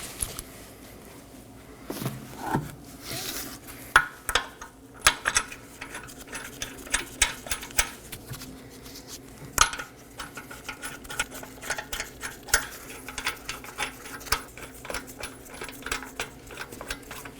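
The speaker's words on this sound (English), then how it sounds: "Now I'm going to hand throw on my 5 21mm lug nuts." Five 21mm lug nuts are threaded by hand onto a reinstalled rear wheel of a 2015-2023 Nissan Maxima, heard as scattered small metallic clicks, taps and clinks at close range in a quiet garage setting.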